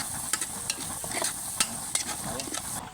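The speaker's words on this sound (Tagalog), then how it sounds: "So ginisa ko muna para mas malasa talaga." Ginger sautéing in a pan for binakol: a steady sizzle and frying hiss with repeated scraping strokes of a spatula stirring, close and even.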